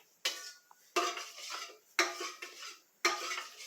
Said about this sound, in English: And you stir.